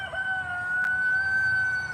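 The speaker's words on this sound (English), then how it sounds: "Is that a cock-a-doodle-doo I hear from Fabio?" A rooster crows in one long drawn-out cock-a-doodle-doo, sustained and fairly distinct over a noisy, rumbling background.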